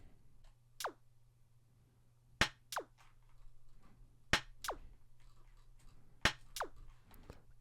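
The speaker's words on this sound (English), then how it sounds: "we have some simple rim shots and percussions" Sharp percussive rim shots crack at irregular intervals, some with quick pitched zips, over a steady low hum in a sparse electronic loop.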